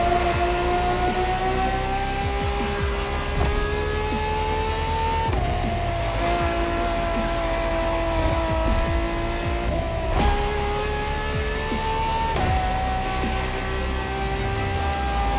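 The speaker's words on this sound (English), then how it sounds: "The strongest naturally aspirated Ferrari V12 to date, marking Ferrari's first steps into hybrid technology." A hybrid Ferrari V12, the strongest naturally aspirated Ferrari V12 to date, drives in The Crew Motorfest, its engine droning loud and steady with rising pitch sweeps at each gear change and occasional faint tire squeal.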